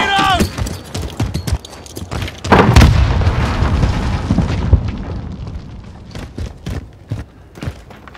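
In Modern Warfare team deathmatch multiplayer, a grenade detonates with a loud boom and a long rumbling tail, surrounded by clattering footsteps and gunfire, with voices calling out over the action.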